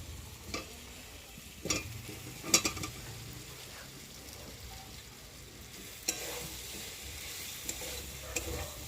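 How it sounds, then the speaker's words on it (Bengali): Fried potatoes are stirred through a spice paste in a hot pan, with occasional spoon scrapes and clinks against the metal over a faint steady sizzle, close by. "এবার এই যে ভেজে রাখা আলুগুলো মশলার মধ্যে দিয়ে আর একটু ভালোভাবে কষিয়ে নেব"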